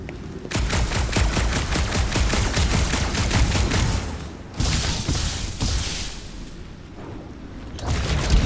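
Rapid bursts of magic-gun fire in the Guardians of the Galaxy video game, dense repeated loud shots with a brief pause midway, then a final burst, no speech over it.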